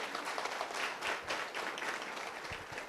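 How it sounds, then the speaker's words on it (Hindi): Crowd applause at a candle march about the Manipur issue, a dense outdoor clapping that swells and stays steady for three seconds at moderate loudness. "इसको जोरदार तालियां हम सबको करना चाहिए।"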